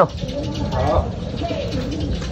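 Breeder pigeons with young cooing in a loft, soft low coos close by under someone talking over them.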